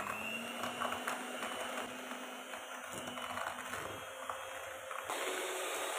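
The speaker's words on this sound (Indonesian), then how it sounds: "lalu ini kita mixer dengan kecepatan paling tinggi, di mixer sampai mengembang dan juga pucat" An electric mixer runs steadily at its highest speed, beating Blue Band margarine for a full-margarine marble cake, giving a continuous whirring drone that stays even throughout with no talking.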